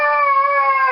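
A husky howls close by, one loud, sustained, tonal note held steadily for about a second.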